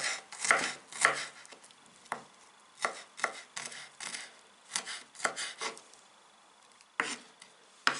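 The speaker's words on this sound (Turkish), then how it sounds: "Sebzeleri doğradım." A knife chops vegetables for chicken noodle soup against a cutting board in uneven bursts of quick, crisp strokes, close up and with no voices.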